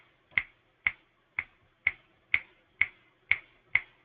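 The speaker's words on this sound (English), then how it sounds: "if I snap my fingers, I should get it to calculate a beat" Eight crisp finger snaps at an even, steady beat roughly half a second apart, close to a microphone feeding a lighting console's sound input, each a sharp isolated click with quiet gaps between.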